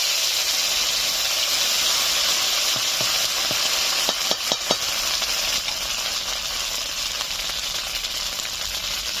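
Ginger goes into hot oil tempered with cumin and radhuni, giving a loud, steady hissing sizzle with a brief cluster of sharp crackles and clicks partway through.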